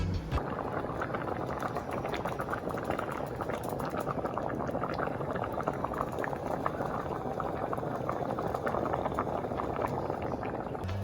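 A pot of vegetarian stew bubbling on the stove, its steady, close boiling and popping carrying on alone for the whole stretch.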